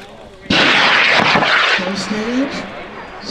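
A three-stage high power rocket ignites at a large outdoor launch event, a sudden loud roaring blast that starts abruptly and sustains, then fades slightly as it climbs away, with voices speaking over it.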